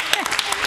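A brief burst of studio audience applause for a singer at a televised song contest, dense clapping mixed with a voice.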